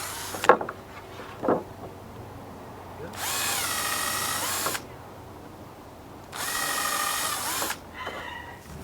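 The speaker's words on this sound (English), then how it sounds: "I'm going to go ahead and line this up and drill the same holes here" A power drill bores holes in deck wood in two sustained whirring runs of about one and a half seconds each, close and loud, after a couple of short knocks.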